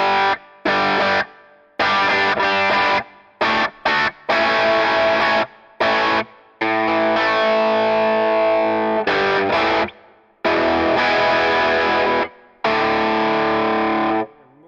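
A Steinberger headless guitar through a distorted channel with a noise gate, reverb and enhancer plays loud chugging riffs and sustained chords, each burst cut off sharply into silence by the gate.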